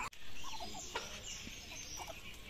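Ducks freed from their pen give a few soft, scattered quacks and calls, faint and somewhat distant, over quiet outdoor ambience.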